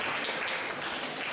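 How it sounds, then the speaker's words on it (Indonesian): An audience at a school discussion session with a provincial election commission claps for a speaker, a dense, even burst of applause filling the room for a brief moment without talk. "Kita berikan tepuk tangan dulu untuk Pak Is."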